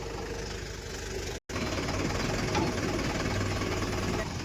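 A neighbour's tractor engine running nearby in a village, a loud, steady rumbling chug that continues throughout, interrupted only by one brief break, with no talking.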